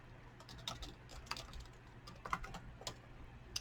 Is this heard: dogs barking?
no